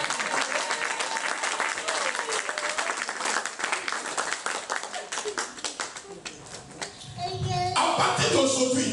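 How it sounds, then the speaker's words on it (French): A church congregation claps and applauds loudly and continuously to acclaim the Lord during a sermon, dense rapid clapping filling the space with voices mixed in, swelling near the end. "On acclame le Seigneur."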